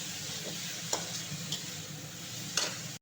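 Fried potatoes sizzle in a pan with a steady, close hiss, broken by a few light clicks of a stirring utensil before it cuts off abruptly.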